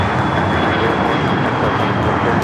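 An Air Canada jet airliner taxis toward the gates at Los Angeles International Airport, its engines giving a steady, loud whine and roar throughout with no voices.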